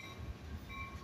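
A freight train of tanker cars rolls steadily past, a continuous low rumble and rail hum with faint high squeal, no voices.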